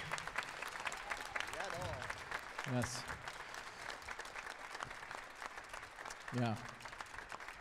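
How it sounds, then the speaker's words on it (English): Audience applause at a jazz festival concert fills the whole stretch as a steady, dense wash of clapping, with a voice speaking briefly over it twice. "Can you give us one more big round of applause"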